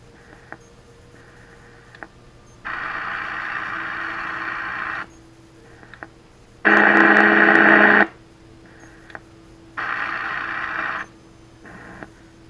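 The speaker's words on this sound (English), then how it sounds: "there's our CW carrier unmodulated for the local oscillator." Unmodulated CW carrier from a radio's local oscillator heard as steady tone-like hiss blocks that switch on and off in several bursts. The loudest burst is in the middle, with quieter static and faint ticks between them.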